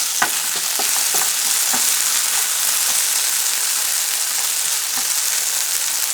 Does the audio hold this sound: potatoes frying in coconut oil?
yes